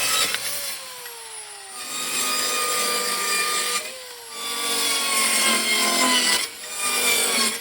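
A hand saw cuts through a 15 by 32 inch piece of plywood in long, rhythmic strokes, three scraping passes with brief pauses between them, close and fairly loud with no talking.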